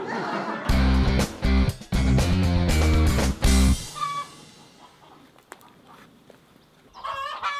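Loud, rapid clucking and squawking from a hen in close bursts, then quieter scattered clucks and rustling as things settle.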